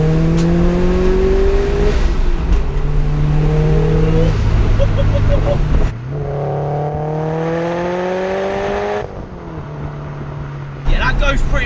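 A 450 bhp meth-injected, forged Subaru Impreza hatchback accelerating hard in third gear, the engine note climbing through loud rising revs, dipping briefly at a lift and then pulling again, heard from inside the car.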